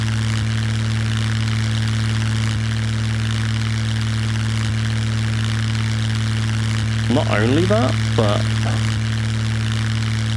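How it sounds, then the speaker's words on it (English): Steady low droning hum of the Kinglet Mariner seaplane's engine idling in the survival game Scum, constant and loud throughout, with someone briefly talking over it near the end. "as soon as I got in the plane, it just like automatically started up"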